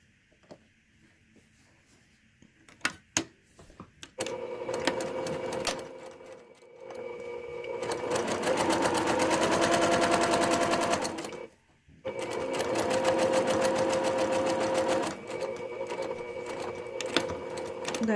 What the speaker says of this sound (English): I'm going to sew the sleeve right down the edge here.